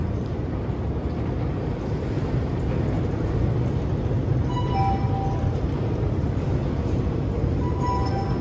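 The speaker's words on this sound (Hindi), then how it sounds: "ये अंडरग्राउंड मेट्रो है जी इसकी" An underground metro train at Avlabari station in Tbilisi, Georgia, gives a constant heavy rumble, loud and unbroken, with a few faint high squeals near the end and no one speaking.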